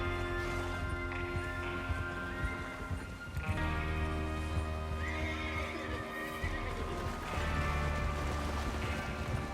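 Horses in the Red Dead Redemption 2 video game neigh and whinny loudly several times over a steady clip-clop of hooves and a low rumbling game backdrop.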